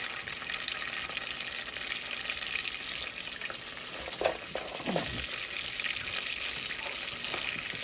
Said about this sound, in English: Slightly saute the ginger and chili in the olive oil butter mix.